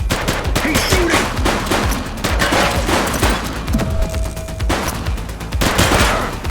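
Sustained gunfire in The Precinct video game, a police shootout with dense overlapping bursts of shots and rapid fusillades running loud and continuous throughout, with no pause.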